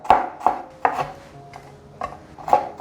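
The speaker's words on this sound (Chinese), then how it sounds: "把姜切丝" Knife chopping ginger into thin strips on a cutting board, about nine sharp, close taps in an uneven rhythm, clear and alone without any talk.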